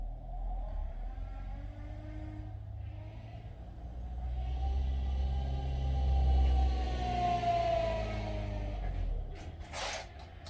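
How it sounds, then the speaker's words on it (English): A car with an odd-sounding engine passes outdoors, its low rumble and drone rising to a peak midway and fading again over about ten seconds, fairly distant. "Don't know if you heard that car go by. Very odd sounding engine."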